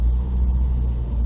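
A 1973 Triumph Toledo 1300 driving in traffic, heard as a steady, close low engine rumble that holds an even loudness throughout with no speech.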